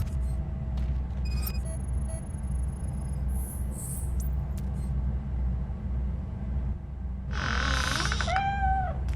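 A cat meows in the game RoboCop Rogue City, one clear, close, rising-then-falling call near the end over a steady low rumble of ambience, with a few faint tonal chirps earlier.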